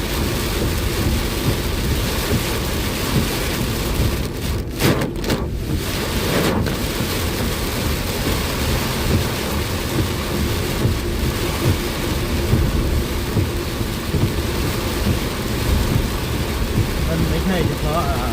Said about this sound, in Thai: ฝนแรงจริงครับผม